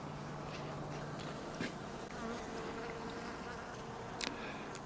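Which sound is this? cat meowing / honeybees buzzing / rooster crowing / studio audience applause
honeybees buzzing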